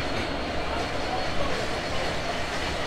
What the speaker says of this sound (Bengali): চলে গেল আমাদের আজকের ট্রেনের লোকোমোটিভ 6309